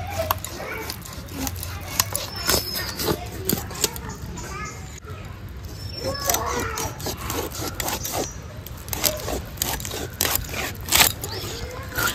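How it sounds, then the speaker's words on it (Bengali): Large fish cut in half in a home setting, with sharp repeated scraping and chopping strokes under steady nearby talk and children's voices. "বড় মাছ তো, এই যে হাফটা করে কেটে নিচ্ছি"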